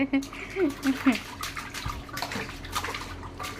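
A baby splashes water during a bath, with irregular watery splashes and drips close by while an adult voice and baby sounds run over the top.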